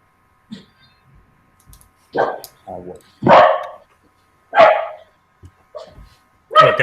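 Pug and beagle mix dog barking, several short separate yaps and barks, loud and close, with gaps of quiet in between.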